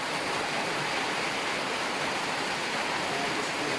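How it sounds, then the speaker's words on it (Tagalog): Steady, dense rushing hiss of heavy rain pouring down, loud and continuous with no voices or breaks. "Ulan pa mga brad."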